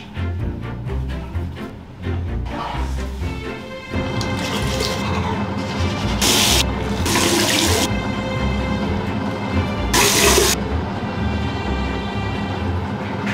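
Shower water runs in a country house hotel bathroom in the Lake District: a continuous loud spray with sloshing and splashing, plus a few brief bursts of harsher noise.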